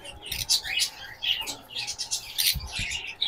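Pineapple conures and green-cheeked conures at a bird seller's house give quick, high chirps in a scattered, repeated pattern. They sound fairly close, with a soft background hum.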